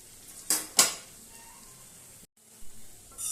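Taal bora, palm fruit fritters, frying in a pan: a soft, steady sizzle broken by two sharp metallic scrapes of a spatula turning them, then a brief hush before the frying resumes.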